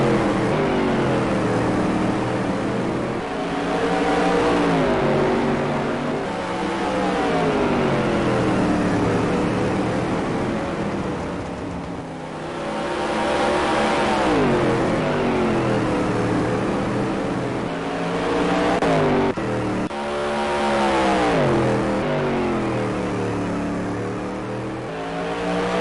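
Supermodified race cars at Mesa Marin Raceway roar continuously at close range, engines rising and falling in pitch as they race past and accelerate, with a steady loud blend of several cars throughout.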